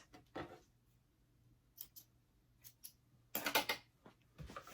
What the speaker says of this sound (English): Trim your threads, and now we're going to trim our pocket.